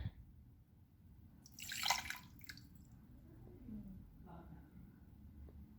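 Water is poured into a US measuring cup, a brief bright splashing burst followed by a softer second trickle, with a quiet low background hum.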